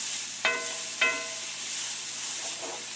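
Two good-sized onions are stirred in hot oil in a pan, giving a low steady sizzle with two sharp scrape clicks of the spoon near the start and soft stirring afterward, close up with no talking.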